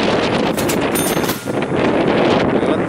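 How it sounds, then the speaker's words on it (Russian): Heavy wind buffets the microphone, producing loud, gusty rumbling and crackling bursts that barely let up. "ветер сильный, даже настолько сильный, что камеру держу и ветер сносит руку"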